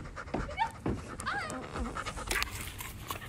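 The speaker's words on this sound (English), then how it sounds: "Hello, this is my new dog." A dog panting close by in quick, breathy bursts, with some faint whimper-like tones and light room noise around it.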